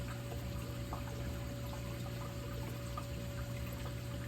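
A reef aquarium's water overflows in a steady, continuous trickling wash that runs evenly throughout, with no voices.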